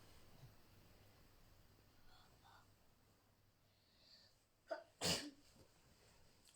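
A single sharp, loud sneeze bursts out near the end of an otherwise quiet, hushed room, preceded by a faint breathy intake.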